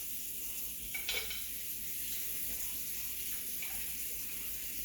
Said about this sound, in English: See how it's sizzling already?